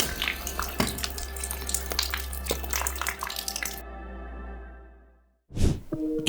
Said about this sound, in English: It's especially weird to see this water leaking from the ceiling in a place which is connected with water